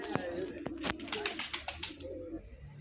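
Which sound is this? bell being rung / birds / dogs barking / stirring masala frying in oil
birds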